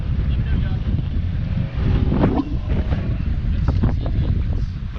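Strong wind buffeting the microphone on a small fishing boat out on the water, a loud, continuous low roar with gusts, and voices talking faintly underneath.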